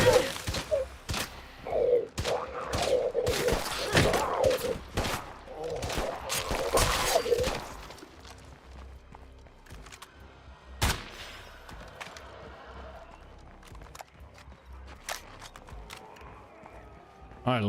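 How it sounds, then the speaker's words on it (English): Small-caliber gunfire in the video game State of Decay 2 cracks out in rapid, loud bursts of shots through the first half, then gives way to sparse single reports over a quieter background, with a voice talking throughout. "Small caliber fire."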